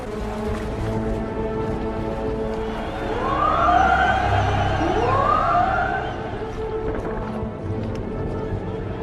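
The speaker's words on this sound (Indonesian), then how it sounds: "Semua kapal itu menyalakan klakson-klakson mereka sebagai tanda keberhasilan." Ships' horns sound together in a World War II film scene as troops board vessels at a beach, rising and bending wails over a busy background.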